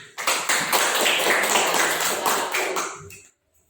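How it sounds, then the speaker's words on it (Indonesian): A classroom of students claps together in a short, loud burst of applause that rises quickly, holds for about three seconds, then cuts off into silence. "Oke, tepuk tangan."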